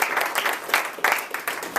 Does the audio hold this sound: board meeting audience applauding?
yes